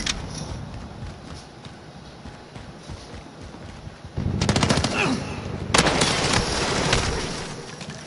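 Automatic gunfire in a Call of Duty Warzone team deathmatch: a quiet, rumbling battlefield gives way to loud, dense sustained bursts of rapid shots, briefly paused and then resumed, close and dominant.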